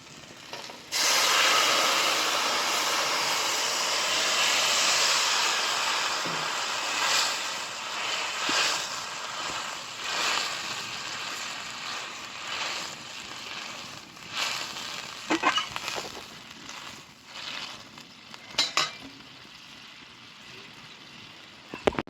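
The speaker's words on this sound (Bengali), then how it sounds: "এখন আমি ঝোলটা ঢেলে দেব।" Broth goes into fried spice paste for a Bengali rohu fish curry with vegetables, setting off a loud, sustained sizzling hiss that slowly eases into softer bubbling and scattered crackles, close by with no talking.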